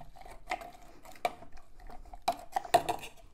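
Pineapple and melon pressed down with sugar for a drink, a muddler knocking against the glass in a few sharp, sparse clinks and taps, close and fairly quiet.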